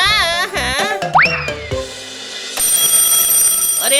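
A cartoon alarm clock rings in a Hindi animated children's story set at a boarding school. Loud bright electric ringing is followed by springy boing and zip effects, with a steady high ring continuing to the end.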